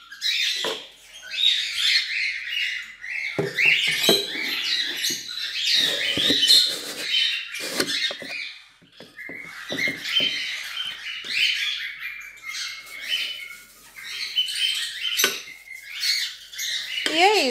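Young chicks squawk and chirp from their nests while the nests are being cleaned, a busy stream of shrill, overlapping calls with rustling and tapping mixed in, close and fairly loud.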